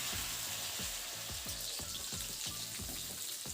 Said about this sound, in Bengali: এখন এই আলু আর ফুলকপি খুব সুন্দরভাবে একটু মিডিয়াম আছে ভালোভাবে কিন্তু ভেজে নেব